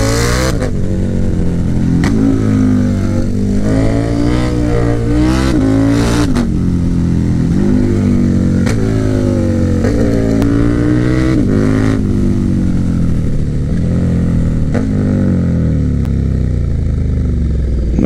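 A KTM Superduke 1290R motorcycle engine roars loud and close, revving up and down in repeated surges with shifting pitch as the rider practises braking and stopping, continuous for the whole stretch with no talk.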